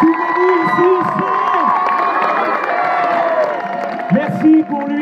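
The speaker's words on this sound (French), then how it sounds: "Applaudissements pour cet artiste" A large crowd cheers, whoops and applauds for a performer at a concert in an exhibition hall, a loud and sustained roar with shouted voices rising over the clapping throughout.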